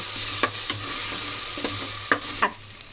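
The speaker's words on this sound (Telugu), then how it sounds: "చూడండి, అల్లం వెల్లిగడ్డ ఫ్రై అవుతుంది" Ginger and garlic frying in a pan for a rice and curry dish, a steady sizzle with several sharp clinks of a spoon stirring against the pan, no voices.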